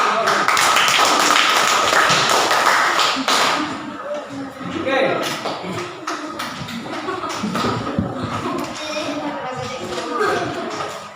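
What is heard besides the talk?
class applauding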